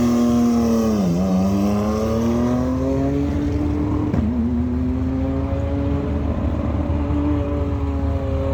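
Loud race car engine drones steadily near, its pitch dipping and rising as the throttle is eased off and reapplied, during testing at Pikes Peak.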